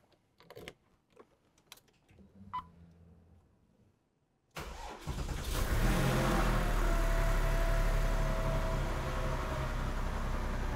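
A Porsche 911 Type 996 GT3 RS cranks and fires up after some quiet interior clicks, then idles loud and steady up close.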